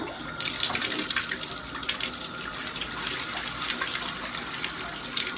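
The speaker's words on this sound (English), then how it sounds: "probably should turn on the water." Fresh water runs from a tap into a tub holding hot color remover, a constant close rushing and splashing flow at fairly loud level with no voices.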